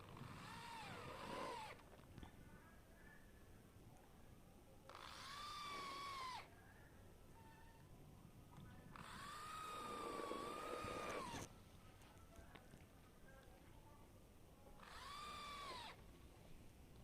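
An electric drill bores into a lightweight steel post in four short bursts separated by pauses, its motor whine rising and sagging under load, faint and somewhat distant.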